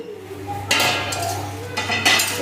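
Coriander powder and fried dried chillies are pounded and ground on a nora grinding stone, with a few sharp stone knocks and rough grinding strokes close by, loud and without talk.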